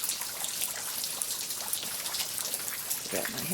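Rain falls steadily outdoors, a soft broadband patter of raindrops hitting surfaces close by, continuous and even with a few brighter drips near the end.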